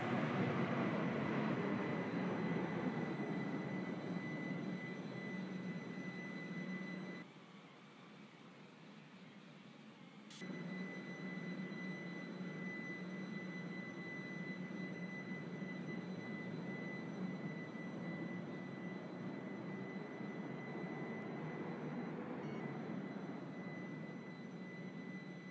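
A four-coach passenger train runs steadily with a continuous low rumble and faint high whine, dipping quieter for a few seconds mid-ride before resuming its even drone.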